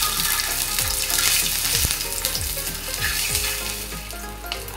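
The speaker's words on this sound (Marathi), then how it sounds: "आता ह्या तेलावर मी अंडी घालून घेते।" Eggs crackle and sizzle as they hit hot oil in a pan, a loud, close, busy spattering with scraping and clinks throughout, no voices.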